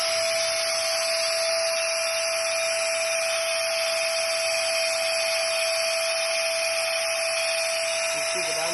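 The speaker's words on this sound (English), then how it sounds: "let's just turn it on, and we'll put on maximum suction" A homemade vacuum seed cleaner runs at maximum suction, giving a steady, loud whine with a sharp constant tone that holds unchanged through the whole stretch, with no voices over it.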